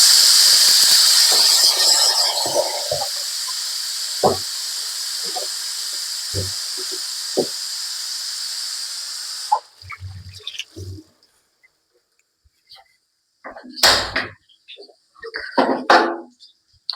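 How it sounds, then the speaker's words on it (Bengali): Fish frying in hot oil with salt and turmeric, a loud steady sizzling hiss with occasional pops, fading after several seconds into quieter clatter and sporadic sounds. "মাছটা আমি ভাজবো"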